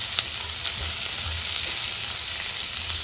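Large onions fry in a pan for Tamil pepper chicken, a dense close sizzle with soft stirring scrapes underneath, no talking.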